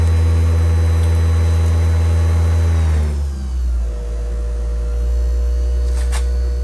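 A machine buffs the ends of arrow points with a loud, steady motor hum and whine. About halfway through the pitch drops and the tone roughens, as if the motor slows under load, then it settles into a lower drone.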